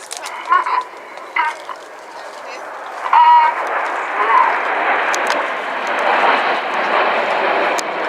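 Aerobatic display jets, Typhoons flying a rolling formation at an RAF Cosford airshow, make a broad steady roar that swells and holds across the whole stretch, with a few short bird clucks and calls near the start.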